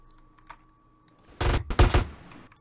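Bursts of gunfire in GTA San Andreas Definitive Edition, two loud clustered volleys of rapid shots after a quiet start, with faint clicks before them.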